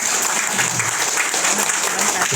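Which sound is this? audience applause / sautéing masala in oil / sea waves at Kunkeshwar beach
audience applause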